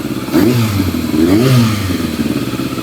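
A motorcycle engine gets a couple of short revs, rising and falling twice, then settles back toward a steady idle, close and fairly loud.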